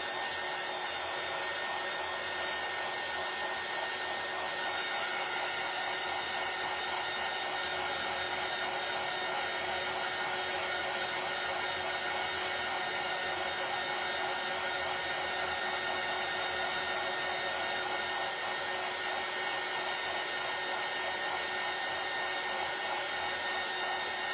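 A hair dryer runs steadily, drying paint on a painted door hanger, giving a constant close whirring blast of air with no breaks and no talking.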